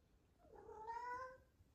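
Pet house cat giving a single soft, drawn-out meow indoors, faint and rising then fading, followed by a brief knock.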